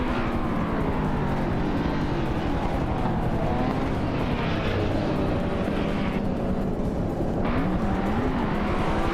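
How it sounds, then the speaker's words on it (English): Race cars roar off the starting line in a racing video game, a dense, loud and continuous engine din with shifting pitch and no speech over it. "Lian Yashin has shot off the line to take the lead."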